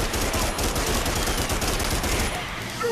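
Rapid, continuous automatic gunfire from the Primal Carnage dinosaur-hunting game rattles on loudly and without pause, dense and close.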